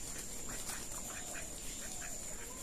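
Domestic ducks at a rural village home quack in a lively, overlapping chorus of short nasal calls, close by over steady background hiss.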